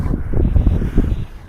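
Strong gusting wind roars through a cold winter blizzard at an Upper Peninsula campsite, buffeting the microphone with loud, rumbling surges and no voices.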